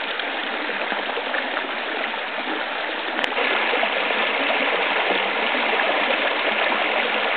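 Mountain river stream rushing near a small waterfall, a steady, loud, close wash of flowing water that holds constant throughout with no voices.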